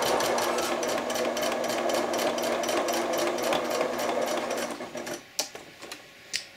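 A sewing machine stitching fabric for a bib apron, running in a steady fast rhythmic whir for several seconds close by, then stopping into a few isolated clicks and taps.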